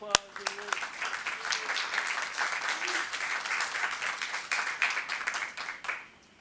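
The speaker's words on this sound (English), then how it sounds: "So again, big round of applause." Applause for award recipients at a parks and recreation board meeting, a room of people clapping steadily with some sharper individual claps, a few voices underneath, then tapering off at the end.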